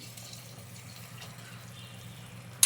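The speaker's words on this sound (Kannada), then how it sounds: "ನೀರು ಸೇರಿಸ್ತಾ ಇದ್ದೀನಿ" Water pours into a pot of rice being made into methi tomato rice, a faint, steady watery rush over a low background hum, ending with a short sharp knock.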